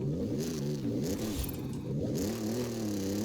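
GMC Syclone engine in Forza Horizon 5 revving repeatedly, the pitch swooping up and down in wavering surges, loud and close with no talk.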